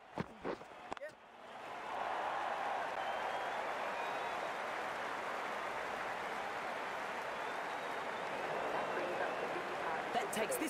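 Crowd at a cricket match applauding, a steady wash of clapping and crowd noise rising after a brief quiet start and holding loud to the end, with commentary voices over it.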